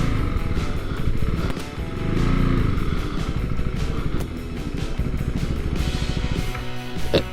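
A KTM Duke 390 motorcycle engine runs loud and close during a ride, with a steady revving drone that swells and dips and some rattling near the end.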